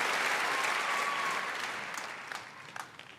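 Audience applause fills a school assembly hall, a dense steady clapping that gradually thins and fades, with a few louder individual claps near the end.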